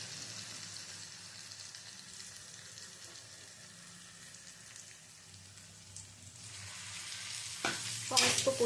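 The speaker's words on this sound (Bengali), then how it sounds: "সমস্ত কচুটা দিয়ে ভালো করে নেড়ে চেড়ে নেব" Marinated taro added to fried onions sizzles steadily in oil, a soft, even hiss that swells near the end as a spatula stirs and scrapes the pan.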